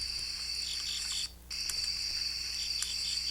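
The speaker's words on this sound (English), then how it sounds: "I hear crickets." Steady, high-pitched cricket chirping fills a calm night, continuous and fairly close, with a brief dip in the middle and no voices.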